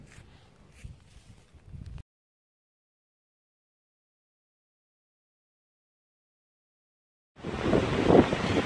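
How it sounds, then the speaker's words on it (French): Strong wind buffets a microphone outdoors during a metal-detecting outing, a rough roaring rumble at the start and again at the end, with a long stretch of total silence between. "il y a énormément de vent"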